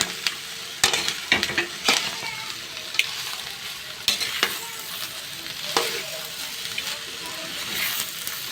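Pork sisig sautéing in margarine in a pan, a close, steady sizzle broken by sharp scraping and stirring strokes, with faint voices murmuring in the background.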